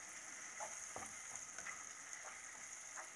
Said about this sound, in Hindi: बैंगन को मसालों के साथ अच्छे से मिक्स कर लेंगे।